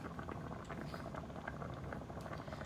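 Rice boiling in a pot of water on a stove inside an RV kitchen, a steady dense bubbling and crackling that stays close and even throughout, with no voices.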